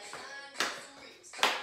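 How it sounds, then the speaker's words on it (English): A scoop clap during a children's jazz dance routine lands as two sharp claps about 0.8 seconds apart, over faint background chatter and room noise. "Ready for a scoop clap."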